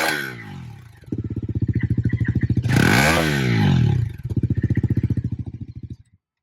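A 400 cc Bajaj Pulsar NS400Z with an underbelly exhaust idles in a loud, throbbing pulse, then revs sharply twice, climbing and falling back before the engine cuts off, close up and without talk.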